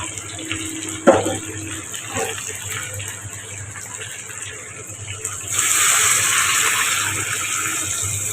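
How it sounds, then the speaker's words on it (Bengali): Hot water is poured into a pot of duck meat curry. A low hum and a single clack come first, then a steady, fairly loud gushing pour starts midway and runs to the end. "আমি সবসময় তরকারিতে গরম পানি দিই। আমার পানিটা হয়ে গেছে, আমি অ্যাড করবো"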